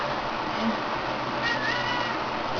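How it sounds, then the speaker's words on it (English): A house cat gives a short meow, faint and brief within a steady, noisy room background, with a small child nearby. "That's a cat."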